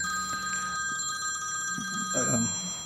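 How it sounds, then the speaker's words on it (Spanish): A mobile phone rings in a conference room with a steady, repeating electronic ringtone that continues throughout. There is room murmur beneath it and a brief voice near the end. "Parece que alguien dejó el teléfono acá. Vamos a... No sé quién será el teléfono. Bueno, ahí seguirá sonando seguro."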